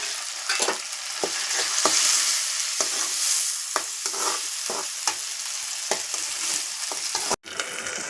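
Two large chopped tomatoes fry in oil in a pan for a cauliflower gravy curry, a steady close sizzle broken by repeated scraping strokes of a spoon stirring, with no talking.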